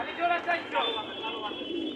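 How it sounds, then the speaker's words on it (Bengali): Paper pigeons cooing among other birds at the Tongi pigeon market, near and continuous across the moment, with voices and market chatter mixed in throughout. "এখানে আছে এক জোড়া কাগজি কবুতর, কাগজি সুইটাল মাশাআল্লাহ খুবই সুন্দর।"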